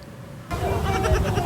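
A baby goat, one of four young kids from a zoo, lets out a single loud, close bleat that starts abruptly after a moment of quiet and wavers for about a second.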